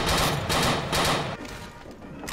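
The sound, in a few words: shotgun firing in a video game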